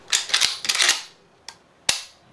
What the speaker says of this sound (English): if you pull the trigger back and pump the shotgun, it shouldn't do anything. You should hear a click